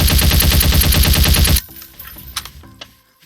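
Futuristic gun in the Garry's Mod video game firing a rapid, loud automatic burst for about a second and a half, then cutting off to a few scattered quieter clicks and thuds.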